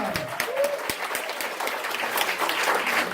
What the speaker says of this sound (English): Let's give her another big round of applause for Jessica Parr.